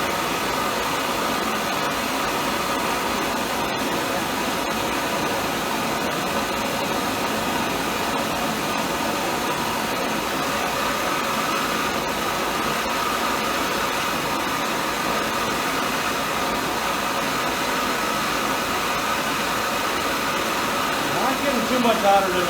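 A Hyper Torch Zeus torch burning propylene gives a steady, broad roar that holds at an even level throughout, with a slight rise right at the end.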